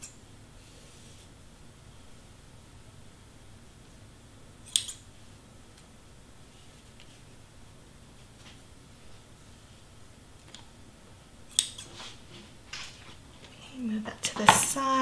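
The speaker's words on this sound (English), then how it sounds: "So I'm gonna cut this three times" Scissors snip through blue paper in a quiet craft setting, with a few sharp, separate cuts spread across the stretch and soft handling noises in between, the last ones coming in a quicker cluster.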